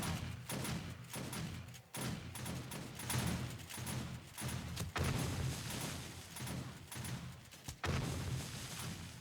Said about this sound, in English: They'll be dying to the shotgun turrets.